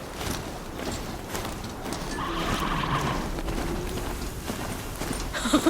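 A fast mechanical Strider mount runs along in a video game, a steady rush of rapid rhythmic footfalls and clattering motion at moderate level, with no voices.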